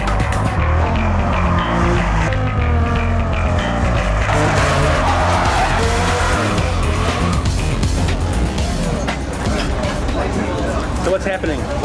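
Dodge Viper sliding sideways at a race start, loud dense engine roar mixed with squealing tires and skidding throughout, other race cars in the mix and a voice talking over it.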